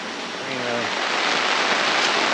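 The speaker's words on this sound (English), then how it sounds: "It's raining like crazy right now." Heavy rain hisses as a dense, steady wash in an Oahu rainforest near the Manoa waterfall, loud and close, with a brief voice at the start.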